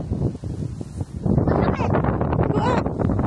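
Strong outdoor wind buffets the microphone in continuous rumbling gusts, loud and close throughout, with people talking faintly underneath.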